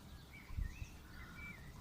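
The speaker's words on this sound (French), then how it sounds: "on entend les oiseaux, je pense qu'ils sont dans l'arbre derrière" Faint, distant birdsong from a tree outdoors: a few thin whistled chirps rise and fall over a quiet background with a soft low rumble.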